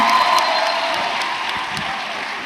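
Audience applause at a tech fair, a steady broadband wash of clapping with faint cheering, sustained and fairly loud throughout without a clear break.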